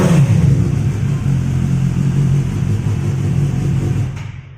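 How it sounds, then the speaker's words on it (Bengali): A superbike idles through its exhaust at a showroom, a loud, steady low rumble close by, with no voices, fading away at the very end. "তো বাইক অন হয়ে গেছে। তো তোমরা এবার সাউন্ডটা শোনো"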